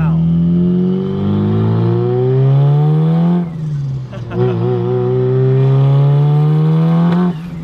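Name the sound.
Mitsubishi Evo car driving with new twin-disk clutch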